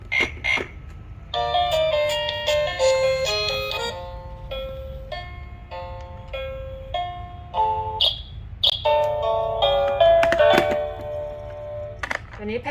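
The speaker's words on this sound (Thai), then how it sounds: "ตัวปู เขาก็จะมีเสียงดนตรี มีเสียงเมโลดี้นะคะ" A crab-shaped toy on a baby's 2-in-1 activity walker plays a bright electronic melody of chiming notes, close and fairly loud, repeating in short phrases with brief pauses.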